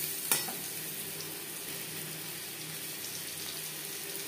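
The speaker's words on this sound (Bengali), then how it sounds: "লবণ হলুদ দিয়ে আলু হালকা করে ভেজে নেব।" Potatoes frying lightly with salt and turmeric in a pan: a soft, steady sizzle with a quiet clink at the start, heard up close at low volume, with no talking.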